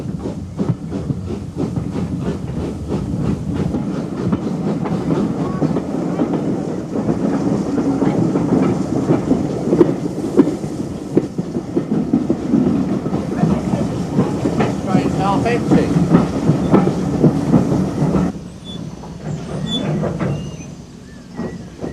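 Steam train on the Kent and East Sussex Railway extension toward Bodiam, a steady loud rumble with rhythmic clicking of wheels on track, a faint hiss, and voices partly beneath.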